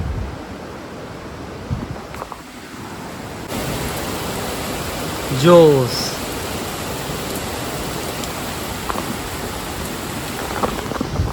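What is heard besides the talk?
heavy rain falling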